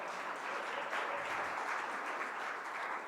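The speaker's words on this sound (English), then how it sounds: "let's give a clap to those" Steady audience clapping at a keynote, a continuous wash of many hands heard from a distance at low level, with no talk over it.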